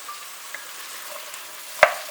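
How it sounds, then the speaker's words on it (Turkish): Vegetables including potato, carrot and onion sizzle softly in a hot pan with a faint continuous crackle, broken near the end by one sharp clink of a utensil. "Şimdi tüm sebzeleri birlikte yaklaşık bir 3-4 dakika renkleri sararana kadar kavuracağım."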